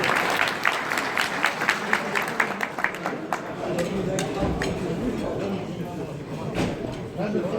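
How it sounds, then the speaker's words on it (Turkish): Audience at a village unity night in Aktepe applauds as a foundation vice-president is called to the stage, with crisp individual claps standing out at first, then blending into a steady ovation. "Sayın Arif Deri'yi güçlü alkışlarınızla sahneye davet ediyorum."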